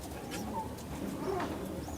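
Sambal pigeons from Uttar Pradesh coo softly against a steady background hiss, a few faint low calls and chirps scattered through the brief stretch.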